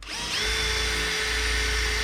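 A power drill bores holes in a 1977 Datsun 620 for a tow mirror, spinning up quickly and then holding a steady, whining grind for about two seconds, close and alone.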